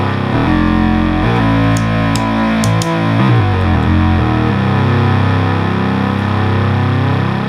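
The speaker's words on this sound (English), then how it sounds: "These early Minimoogs, they just have a grit to them that's just I love." An early 1972 Minimoog synthesizer being restored plays loud, gritty, distorted lines with sliding low notes and dense buzzing harmonics, sustained without pause and no voices.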